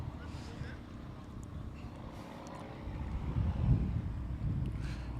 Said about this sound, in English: We still have the same cold windy conditions with very light drizzling around.